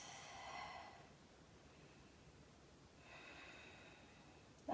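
Deep, slow breathing during a yoga class: a soft airy exhale at the start, a quiet pause, then another long breath, all faint and close with no talking.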